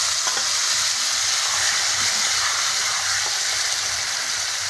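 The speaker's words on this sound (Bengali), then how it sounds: "ফোড়নটাকে একটু ভেজে নেব। তরকারিটা দিয়ে দিচ্ছি।" Five-spice tempering (panch phoron) fries in hot oil as ridge gourd (nenua) curry goes into the pan, giving a loud, steady sizzle with stirring scrapes throughout and no talk.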